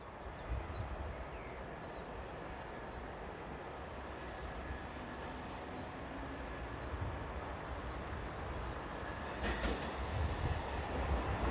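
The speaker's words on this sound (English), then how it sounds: "Here we see the 1447 departure from Tongeren to Ghent, powered at the rear by the returning number 1920" A passenger train departs Tongeren station bound for Ghent, pushed by a locomotive at the rear. It makes a steady, faint rumble of rolling wagons that swells slightly toward the end.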